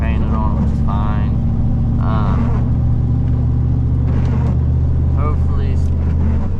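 A red Ford truck drives along toward town, its engine a steady, loud low rumble that carries on throughout while someone talks over it.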